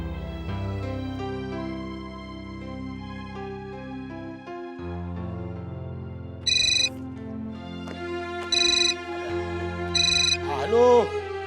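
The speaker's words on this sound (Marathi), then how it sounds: "जरा आता सरांच्या घरीच फोन लावून बघते." A phone rings on an outgoing call, with several short, bright ringback bursts over background music in a television serial scene.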